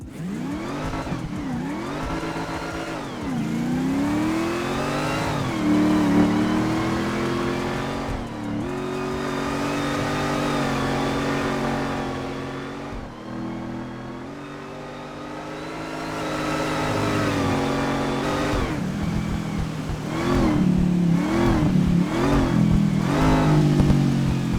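A supercharged Mercedes in the video game GTA 5 revs repeatedly and loudly, engine pitch sweeping up and down in bursts with a sustained drive-by roar, no talking.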